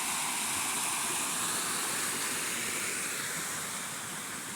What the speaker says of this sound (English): Another beautiful waterfall here at this footbridge.